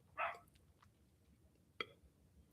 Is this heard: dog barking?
yes